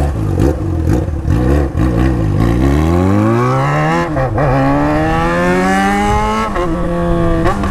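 A Yamaha XJ6 motorcycle blasts loud through its open exhaust, revving with rising, falling harmonic sweeps and a steady high-rpm howl that fills the whole stretch, close and aggressive.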